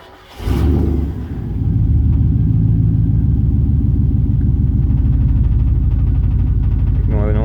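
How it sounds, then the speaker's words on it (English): A 5.7L Vortec truck engine cranks briefly, catches and settles into a steady, loud, close idle rumble that holds to the end. "Alright, so I'll fire up the truck here"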